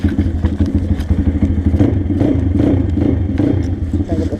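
Pit bike engine idling and revving in snowy conditions, a loud close uneven chugging and clattering that rises into a steadier rev midway through.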